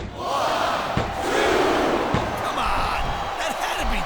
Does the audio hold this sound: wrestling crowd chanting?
yes